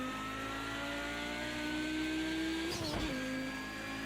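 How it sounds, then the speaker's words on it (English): Audi 90 Quattro IMSA GTO race car in the Project CARS 2 video game, its engine holding a high, steady rev near redline, then a brief dip at a gear change before climbing again; loud, continuous, without talk. "I was really redlining 2nd gear that time. Hard on the gas."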